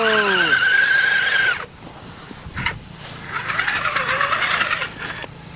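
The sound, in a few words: Traxxas Summit RC truck wheels spinning in snow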